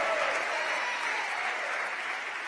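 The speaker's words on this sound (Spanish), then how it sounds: "Démosle palmas al Señor" A church congregation claps hands in praise during a rainy-day service, a full, continuous wash of applause heard close and steady throughout, with faint voices mixed in.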